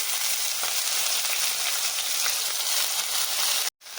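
Chopped jute leaves dropped into a pan of onions fried until reddish, giving a steady, close sizzle of frying that runs on unbroken before stopping abruptly near the end.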